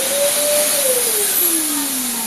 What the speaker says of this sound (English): when we plug in the Hoover and turn it on